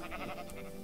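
A sheep bleats in Minecraft, a short wavering cry heard up close at moderate volume.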